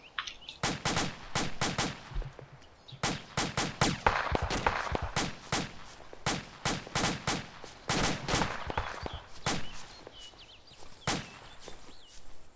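Section Alpha opens fire in a field exercise: sustained bursts of rifle and machine-gun fire, rapid sharp cracks in clusters with brief pauses, loud and close outdoors, with no talk over it.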